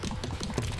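Computer keyboard keys tapped rapidly, including the space bar, a quick run of close, light clicks with no voice over them.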